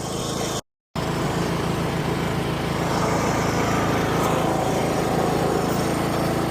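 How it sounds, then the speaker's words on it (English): A small tractor engine runs steadily at a constant drone, close and loud, briefly cutting out for a moment near the start before continuing unchanged. "let's get this tractor and trailer back on the road"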